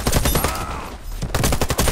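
Rapid automatic gunfire from an MSBS rifle in the online shooter Warface, a loud dense burst that briefly pauses mid-clip before the shots resume just as hard.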